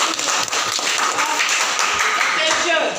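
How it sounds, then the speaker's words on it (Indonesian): Students in a school classroom clap for a group, brisk dense hand clapping that runs steadily for a few seconds, close and fairly loud with a bright, tapping texture. "Tepuk tangan buat kelompok."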